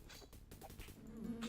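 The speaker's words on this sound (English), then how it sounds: "More wasp." Quiet buzzing of wasps in the video game Lands of Lore, a faint droning hum with a higher whine rising toward the end.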